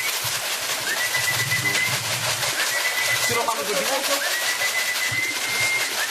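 Racing pigeons return to a Polish club loft at Łochów, with wingbeats and soft cooing close by over steady outdoor noise, thin whistles drifting through and someone talking now and then.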